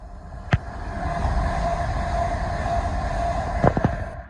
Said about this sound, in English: Here we have a GWR IET going from London Paddington to Cheltenham Spa